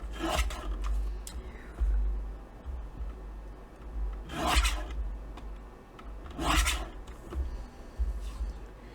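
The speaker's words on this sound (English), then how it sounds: "So I'm going to trim these down just a little further, get this white off of here." Scissors trimming printed paper images for card crafts, with soft rubbing and snipping rasps in a few separate bursts amid quiet handling noise, close by.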